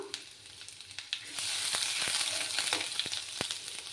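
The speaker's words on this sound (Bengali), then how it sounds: "এবার আমি গ্রেট করে রাখা আদা কুচি দিয়ে দিচ্ছি" Grated ginger hits hot oil and bursts into a loud, steady sizzle partway through, following light clicks of a utensil against the pan, with sporadic taps continuing over the frying hiss up close.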